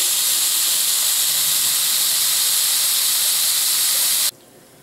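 Bacon sizzles in a warm pan for elk chili, giving a loud, continuous hiss that holds steady and then cuts off abruptly near the end.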